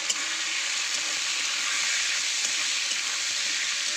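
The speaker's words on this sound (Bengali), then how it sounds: "তার জন্য চিকেনটা আগে একটু তেলে ফ্রাই করে নেবো" Small cubed pieces of boneless chicken frying in oil with chopped browned garlic, a dense continuous sizzle and hiss, close and steady, with no talk.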